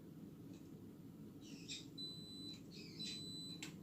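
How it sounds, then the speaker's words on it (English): A home smoke alarm chirps in short high-pitched tonal bursts, several beeps spread over a few seconds at moderate distance, above a steady low background hum. "That's just the alarm going off."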